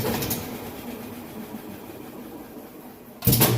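A Whirlpool washing machine drum spins fast with a steady, loud whirring rumble, ending in a sudden louder clatter.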